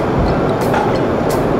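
The Purwojaya train at Gambir station in Indonesia gives off a loud, continuous rumble with a few faint higher metallic tones, filling the whole moment with no speech.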